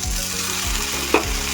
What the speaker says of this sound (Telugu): ఇప్పుడు దీని మీద ఉన్న ఆయిల్తోనే టమాటోస్ని లైట్గా రోస్ట్ చేసుకుందాం.